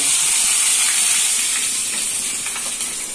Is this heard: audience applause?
no